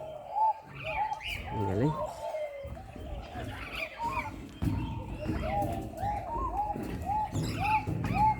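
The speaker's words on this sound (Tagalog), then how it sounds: "Ang ganda ng ano, uni ng ibon lang at marinig nyo rito." Birds call repeatedly at Marsupial Park in Tamworth, with bright chirps and squawks recurring near and far while people talk close by.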